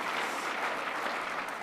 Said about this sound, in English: My Minister of Transportation is applauding there.